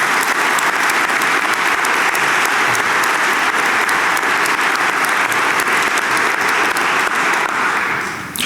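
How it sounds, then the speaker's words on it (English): Audience at a college convocation and reunion gathering claps in a loud, sustained round of applause that continues steadily for several seconds before tapering slightly at the end. "Can we give him a round of applause?"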